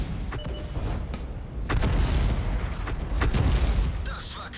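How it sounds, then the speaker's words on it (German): Tank cannon fire in the World of Tanks game, featuring the SU-8 on the Prokhorovka map: heavy booming shots and rumbling explosions in dense succession, loud and continuous over a battle background, with a voice commenting throughout. "Und wenn einer dann aufgeht, dann hagelt es Schüsse."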